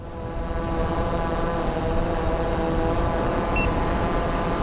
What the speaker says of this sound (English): We've got to land the drone.